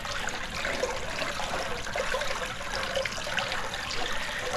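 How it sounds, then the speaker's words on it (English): Water sloshing and churning while the walls of a backyard fish pond are scrubbed, a steady close rushing and trickling wash with no distinct pauses. "I'm just basically going around the perimeter and the walls, agitating the water"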